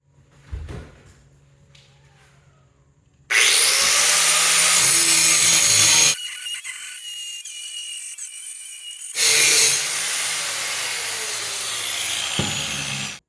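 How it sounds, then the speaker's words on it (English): An angle grinder works down a metal crossbow limb in a shop, with loud sustained bursts of high-pitched grinding, a pause and a second long run, then a clunk as it stops. "we've been grinding on the backside here, trying to get the profile a little bit thinner"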